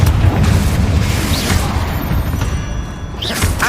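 A Confringo blasting spell exploding in Hogwarts Legacy, a heavy, loud booming rumble sustained throughout, with whooshing swells and brief magical chimes layered over the roar.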